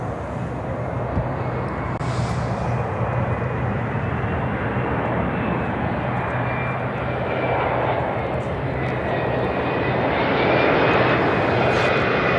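A jet airliner roars steadily at Chicago O'Hare Airport, a loud, sustained engine rumble and whine that holds for the full length and swells slightly near the end, with no talk.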